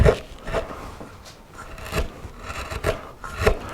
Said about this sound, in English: using the corner of the gouge, like this, and swing it round